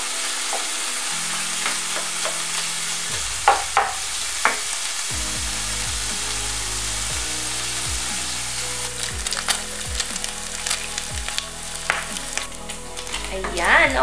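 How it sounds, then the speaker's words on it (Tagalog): Meat fries in a small amount of oil for ginisang mongo, giving a loud, continuous sizzle with scraping and clattering as it is stirred around the pan, and no voice. "haluin ng konti para kumalat yung mantika"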